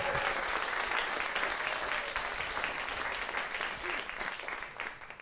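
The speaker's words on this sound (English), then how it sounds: "a round of applause for our judges" Sustained applause from a Strictly Come Dancing studio audience, loud and even throughout, gradually tapering slightly toward the end.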